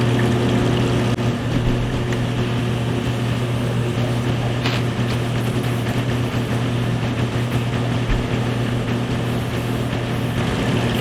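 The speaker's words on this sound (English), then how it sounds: "Sorry for any of the background noise. I'm doing this in my basement and there's water pipes above me." Water rushing through pipes in a basement ceiling makes a steady, loud, continuous hum and hiss with a low tonal drone that runs unbroken the whole time, with no talking.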